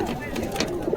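Pigeons at the Beldanga bird market give a brief, soft coo, caught close amid a busy background murmur of market voices.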